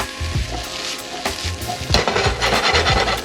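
Potatoes frying in a pan hiss and sizzle close by, broken up by scraping stirs of a utensil, with a denser burst of frying near the end and no talking.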